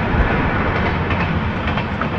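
The Mumbai–Karmali Tejas Express runs beside the Mumbai–Goa highway, a loud, close, continuous rumble with rhythmic rail clatter and no voices.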